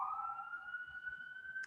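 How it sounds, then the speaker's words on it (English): Ambulance siren outside, a faint, distant wail that slowly rises in pitch and holds steady, heard alone with no talk. "I'm just going to let go of the ambulance here."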